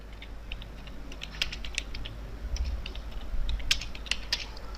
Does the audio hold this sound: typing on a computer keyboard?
yes